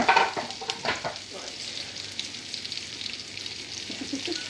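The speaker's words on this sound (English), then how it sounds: "we're going to put the onions and start cooking the onions first a little bit" Onions sauté in ghee in a pan, a soft steady sizzle with a few clattering stirs and utensil knocks near the start, then a quieter continuous fry.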